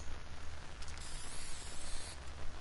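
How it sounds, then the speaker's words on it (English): Spray painting in a video game gives a faint, continuous hiss with a couple of slightly stronger bursts, no voices over it. "Just hear people spray painting."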